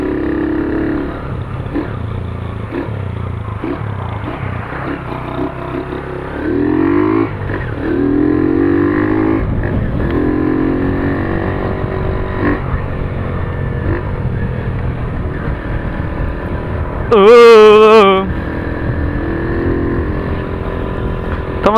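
A carbureted Honda Titan 150 motorcycle rides along with a steady engine drone, its pitch shifting slightly as it cruises, with a brief loud clattering burst near the end.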